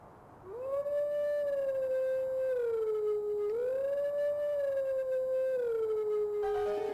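Wolf howling the Song of Healing in the video game Zelda: Twilight Princess, a clear sustained melodic howl rising and falling through several phrases, alone and close.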